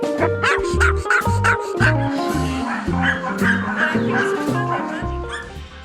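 Several Pomeranian dogs yip and bark in quick bursts, close and loud, with whimpers between, over a steady musical bed.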